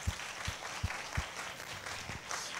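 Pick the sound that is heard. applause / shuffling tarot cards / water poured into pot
applause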